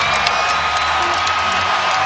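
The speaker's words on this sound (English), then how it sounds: "Crowd on its feet." Basketball arena crowd cheering during an NBA Lakers vs Celtics game, a dense roar of cheers and whoops sustained throughout.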